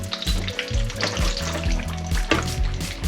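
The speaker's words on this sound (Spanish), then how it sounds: "echamos las almendras, que se vayan tostando" Almonds toasting in a hot frying pan, a steady crackling sizzle with occasional scrapes and stirs of a utensil.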